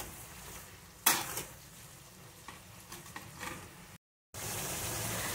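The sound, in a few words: tomatoes with salt sautéing in a pan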